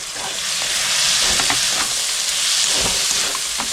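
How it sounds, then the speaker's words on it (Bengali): Diced carrots tipped into a hot frying pan for chicken soup set off a loud, close sizzle with scraping stirs and crackling pops, continuous throughout. "এবার আমি আধ বাটি গাজর কুচিয়ে রেখেছি ডুমডুম করে, এটা দিয়ে দিলাম"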